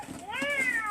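A cat gives a single rising-then-falling meow at close range, indoors, clear and fairly loud for under a second, with faint room noise around it.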